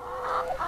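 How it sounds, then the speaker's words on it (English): Brief cluck from a chicken in a flock of chickens and a rooster, a short close call with no talking over it. "Here I am with all the birds."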